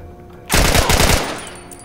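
Loud, close burst of rapid gunfire from a gun in The Last of Us video game, a quick rattling volley that starts suddenly and tails off into echo.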